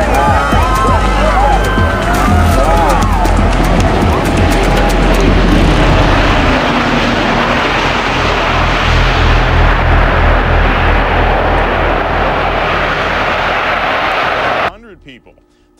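A Qantas Airbus A380 double-deck jet roars overhead on a test flight at Los Angeles airport, a loud sustained engine rumble that swells and holds for most of the stretch before cutting off abruptly near the end.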